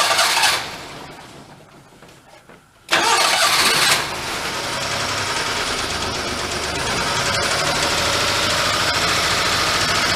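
A clapped-out Daihatsu mini truck with a blown engine cranks and catches, then settles into a loud, steady idle on choke, close by and with no talk over it.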